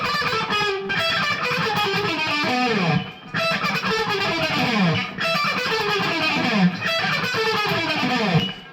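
A distorted electric guitar plays an intro lick in repeated descending phrases with sliding notes. The playing is loud and close, with no talk over it.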